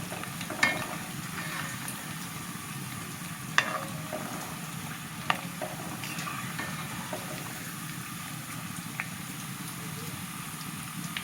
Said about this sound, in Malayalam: നമ്മൾ ഇളക്കിക്കൊണ്ട് നിൽക്കും കരിവേപ്പിലേക്കല്ലേ വേണ്ട വേഗമേ കരിഞ്ഞു പോകും